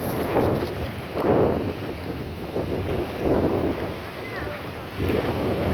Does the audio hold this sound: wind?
yes